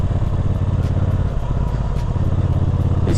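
A 2019 Triumph Speedmaster motorcycle engine drones steadily while riding on the road, a loud, constant low rumble with wind noise and no talking.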